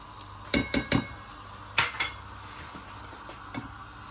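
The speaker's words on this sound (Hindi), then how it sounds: "चम्मच को मुसलसल चलाते रहेंगे।" A spoon stirring milk and ghee in a pan clinks and scrapes against the metal in several sharp strokes, two quick pairs and a few fainter taps, close and clear over a low background hum.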